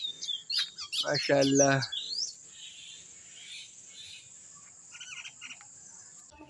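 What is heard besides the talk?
birds chirping outdoors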